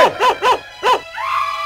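A dog barks in a rural Mewati village, giving four loud, close barks in a quick, uneven rhythm and then a longer whining yelp, with no talk over it.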